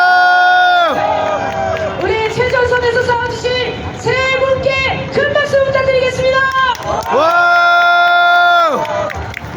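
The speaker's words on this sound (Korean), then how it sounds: "우리 최전선에서 싸워주신 세 분께 큰 박수" A large crowd at a South Korean street rally breaks into sustained cheering, shouts and clapping, loud and close, with raised voices ringing out over the din.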